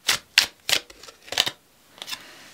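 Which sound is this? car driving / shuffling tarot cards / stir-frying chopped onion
shuffling tarot cards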